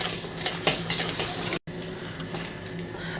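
Metal utensil scraping and clinking in a bowl as cupcake batter for a double batch is mixed after four eggs go in, steady close stirring taps with a brief dropout midway, no talk.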